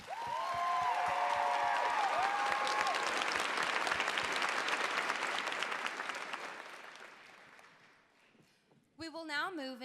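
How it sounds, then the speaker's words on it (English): Loud, sustained applause from an audience at a fashion show awards ceremony, dense clapping that gradually fades out, with a voice briefly heard near the start and again at the end. "let's give them one more round of applause"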